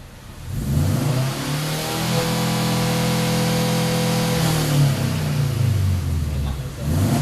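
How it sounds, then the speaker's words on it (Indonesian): A Suzuki Carry's valvetronic racing exhaust, with the resonator removed, revs up from idle, the pitch climbing and holding in a loud, raspy roar before dropping back, recorded close. "setelah pipa valvetronic racingnya dimundurin, terus resonnya dibuang, ternyata lebih keluar ya suaranya"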